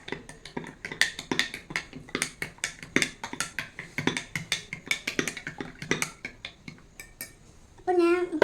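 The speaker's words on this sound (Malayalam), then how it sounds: "നമുക്കിനി മിക്സ് ചെയ്യാം." A spoon clinks rapidly and steadily against a dish while milk is stirred in for a homemade drink, a close run of sharp metallic taps that ends with a brief burst of other noise.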